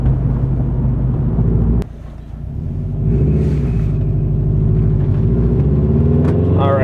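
A 2012 Subaru WRX with a gentleman's exhaust accelerates through the gears, a steady loud engine drone with a brief dip at a shift, then climbing again, heard from inside the car.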